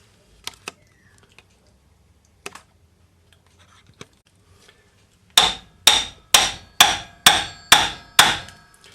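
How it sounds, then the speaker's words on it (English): Seven sharp, evenly spaced strikes of a rawhide hammer on a metal love knot cuff bracelet held on a ring mandrel, loud and close, following a few quieter scattered taps. "we're just going to hit it with our rawhide hammer"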